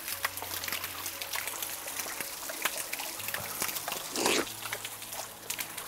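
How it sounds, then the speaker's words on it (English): A small stream of natural water trickles down at an old Spanish mansion, a steady, close, continuous splashing wash that swells briefly toward the end. "Small stream of water running down."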